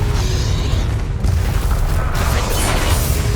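A continuous loud, rumbling roar of explosive spell blasts in the Hogwarts Legacy video game, heavy low-end booming that holds steady throughout with no pauses.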